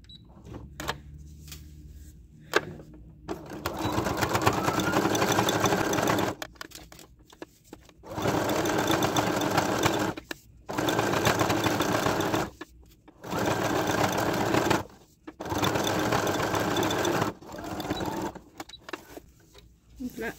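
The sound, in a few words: sewing machine topstitching near the edges of a bag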